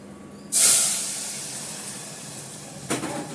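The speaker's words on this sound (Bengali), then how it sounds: "ভাত উঠলে গেছে।" A rice pot boils over, letting out a sudden loud hiss of steam that slowly fades, followed a few seconds later by a second, shorter hissing burst, close by with no speech.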